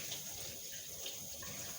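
Tap water runs steadily to rinse a used dish during cheesecake making, a continuous close splashing wash of sound with no talk.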